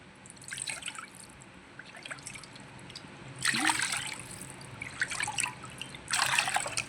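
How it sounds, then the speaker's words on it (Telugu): Water trickles and splashes into a pan for vermicelli payasam in a few intermittent bursts, three cups to one cup of vermicelli, quiet and nearby, with soft drips between pours. "ఒక కప్పు సేమియాకి మూడు కప్పులు వాటర్ పోస్తున్నాను"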